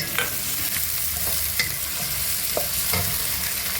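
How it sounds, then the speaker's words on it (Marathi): Long-sliced onion sizzling steadily in hot oil for chicken fried rice, with occasional soft scrapes and taps of a spatula stirring the pan. "त्याला चांगलं फ्राय करायचं आहे"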